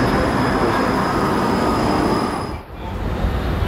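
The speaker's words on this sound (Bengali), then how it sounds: "এই তো ট্রেন এসে গেছে।" A metro train arrives at a station in Tollygunge, a loud close rumble of wheels on rails with high steady squeals and a brief dip before the roar resumes.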